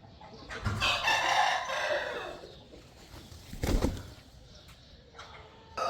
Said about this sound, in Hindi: मुर्गी की आवाज़ें आ रही हैं अंदर से